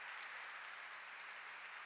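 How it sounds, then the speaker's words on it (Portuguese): Steady applause fills a church service, a dense, even wash of many hands clapping at a distance throughout with no break. "Você pode aplaudir o Senhor?"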